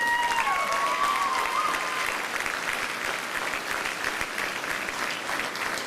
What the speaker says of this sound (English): I wasn't expecting clapping.